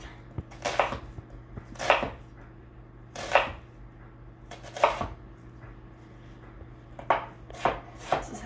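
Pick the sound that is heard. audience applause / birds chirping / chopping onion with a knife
chopping onion with a knife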